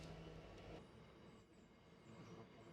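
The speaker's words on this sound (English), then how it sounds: "Nice train." A train rumbling past near a riverside angling spot, a broad steady roar of rail noise from start to finish, fairly distant and faint, with no voices.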